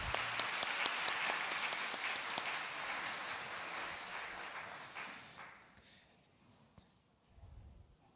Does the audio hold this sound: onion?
no